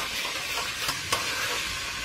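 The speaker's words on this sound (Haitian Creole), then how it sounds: "on va prendre épice là dans chaudière. On va brasser les." Spoon stirring and scraping through spices in a pot over a steady frying sizzle, with a couple of sharper scrapes.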